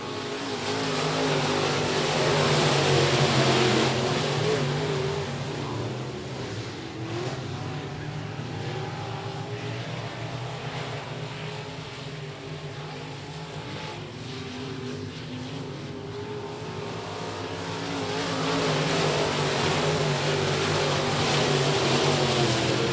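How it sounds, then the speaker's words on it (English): IMCA modified race cars circling a dirt speedway in a pack, a loud, continuous engine roar that swells and fades as they sweep around the turns, with a voice calling the race. "Ryan Doyen leading this pack of IMCA modifieds."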